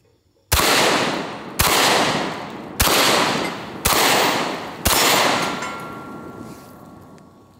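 Five loud, close shotgun blasts from a Benelli M4 semi-automatic shotgun, fired at an even pace about a second apart, each boom followed by a short ringing decay, with nothing else heard.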